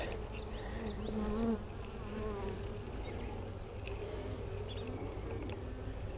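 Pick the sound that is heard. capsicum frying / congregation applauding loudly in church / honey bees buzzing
honey bees buzzing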